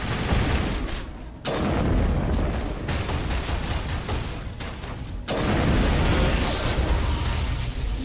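Enemies blowing up in the sci-fi shooter Mass Effect 1, loud booming bursts over continuous heavy gunfire, with a couple of sharp breaks where new explosions hit.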